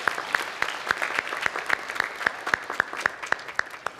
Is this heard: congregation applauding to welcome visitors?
yes